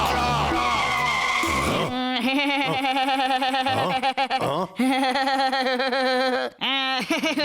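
A cartoon character's voice imitates a car engine starting, revving and skidding in a long, loud run of sputtering tones that break off briefly twice before resuming, with no real engine present.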